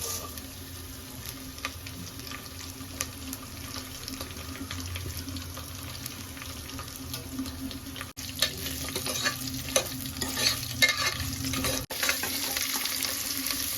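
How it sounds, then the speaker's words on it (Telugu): Whole spices frying in hot oil for mutton biryani, a soft continuous sizzle with scraping stirring and clinks, growing busier in the second half, no talking. "ఆయిల్ వేడైన తర్వాత మనము మన దగ్గర ఉన్న ఆల్రెడీ తీసుకున్న మసాలాలు వన్ బై వన్ వేసుకునేసి ఒక ఫైవ్ మినిట్స్ దాన్ని వెయిట్ చేసుకోవాలి"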